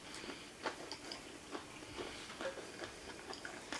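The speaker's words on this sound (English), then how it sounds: "It's a lot of chewing." Someone chews Death Nut 3.0 peanuts from Blazing Foods, rated 16 million Scoville, with steady close, soft crunching and clicking bites repeating throughout, no talk over it.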